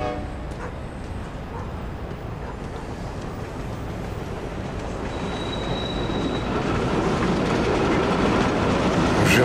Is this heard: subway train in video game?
yes